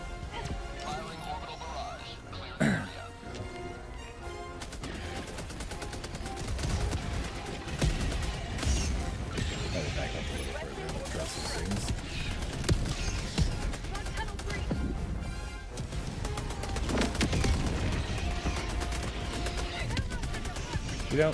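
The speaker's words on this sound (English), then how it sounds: "I think the orbital barrage is really starting to grow on me." Orbital barrage strike in the Helldivers video game, heard as a long run of heavy booming explosions and crashing blasts with gunfire mixed in, packed densely over a noisy game battle, with someone talking over parts of it.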